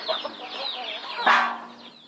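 A chicken giving a few short, close clucks over two seconds, ending in a louder squawk as it faces off with cats.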